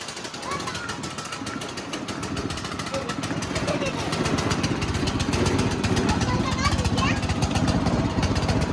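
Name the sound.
tractor engine running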